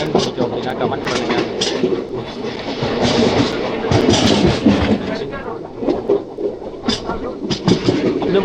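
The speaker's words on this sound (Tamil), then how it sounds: "இந்த ட்ரெயின் நிற்காது, ஏன்னா அது சூப்பர் ஃபாஸ்ட்." A superfast express train rumbles past on the rails without stopping, with rhythmic clattering and screeching, loud and close, while people talk over it.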